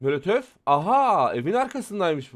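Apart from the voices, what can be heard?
None of the usual background noises is heard.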